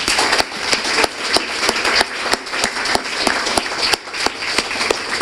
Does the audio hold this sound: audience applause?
yes